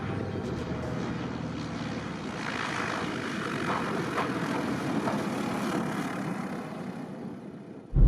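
Small propeller aircraft in flight to Fair Isle in Shetland, a steady droning engine and airflow roar heard from inside the cabin, continuous and fairly loud with no talking.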